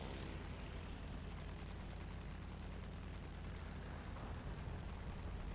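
Roaring engine and dense cannon fire blur into one continuous loud rumble as a Boomerang Mk I fighter destroys an enemy aircraft in War Thunder, with no clear pauses.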